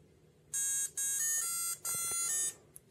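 A calculator clock USB hub's countdown timer alarm goes off, three bursts of shrill electronic beeping, each lasting a fraction of a second, followed by a faint click.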